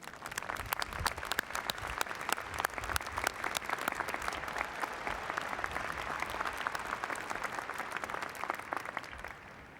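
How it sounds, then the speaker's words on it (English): A large audience at a 1999 University of Washington commencement applauds teaching award recipients in a steady, dense ovation of many clapping hands that carries for nearly ten seconds before cutting off. "Please join me in applauding these exceptional teachers."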